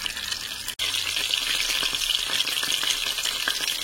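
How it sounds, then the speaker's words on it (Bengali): Chanda fish fry in hot oil in a pan, a steady close crackling sizzle that runs without a break apart from one brief dropout, with no talking. "এখন আমি একটা একটা করে মাছগুলো ভেজে দিচ্ছি"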